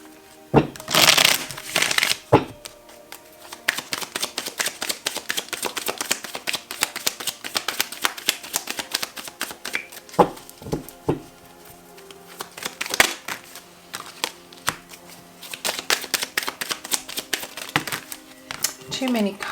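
Tarot cards shuffled by hand in repeated bursts of riffling and flicking, close and fairly loud, with a spoken voice over parts of the shuffling.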